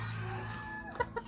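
A hen kept as a pet, a white Kelso chicken among the flock, gives a couple of short clucks near the end, close by over a steady low background hum.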